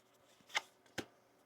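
Tarot cards are shuffled in two quick, soft riffling bursts, close and quiet, with no talking.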